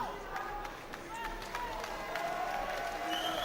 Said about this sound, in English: applause for two worthy opponents within the ring